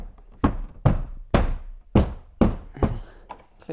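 Plastic trim panel on the rear upper tailgate of a Land Rover Discovery being knocked home onto its clips, seven solid, close thunks struck in a steady rhythm about half a second apart, with no talking.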